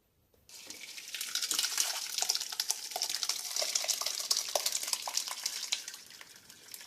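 Liquid wort for a chestnut brown ale pours and splashes steadily through a strainer, a continuous close watery rush with small clinks, lasting several seconds after a brief silent start.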